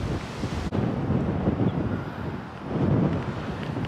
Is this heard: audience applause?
no